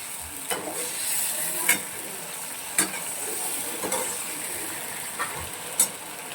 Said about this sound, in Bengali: এবার এটা ততক্ষণ দিয়ে নাড়াচাড়া করবো যতক্ষণে এটার মধ্যে থেকে তেল ছেড়ে দিচ্ছে